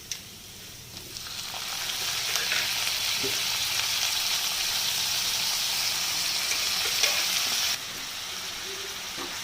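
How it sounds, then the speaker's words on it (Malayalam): Pressure-cooked beef drops into a pan of softened onions for Filipino beef caldereta. A sizzle builds over the first couple of seconds into a steady, loud frying hiss, then drops abruptly near the end. "ഇതിലേക്ക് നമ്മൾ പ്രഷർ കുക്ക് ചെയ്ത് വെച്ചിരിക്കുന്ന ബീഫ് അങ്ങോട്ട് ഇട്ട് കൊടുക്കാം."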